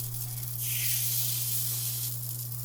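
Bánh khọt batter for Vietnamese mini pancakes sizzles as it hits a hot pan, a steady hiss that swells louder midway over a constant low electrical hum.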